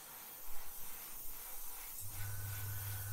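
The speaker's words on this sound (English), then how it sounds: "That is doing exactly what an airbrush should do" Soft, steady hiss of a Gaalheri Mobius airbrush spraying fairly dry paint onto plastic, faint and continuous, with a low hum joining partway through.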